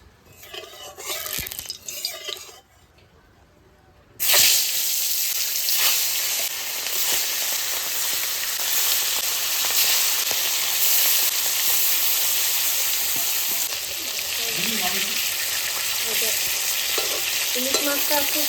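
Oil goes into a hot kadai: after some quiet clattering, a sudden loud sizzle erupts and holds steady, with occasional scraping and stirring clinks over the continuous frying hiss.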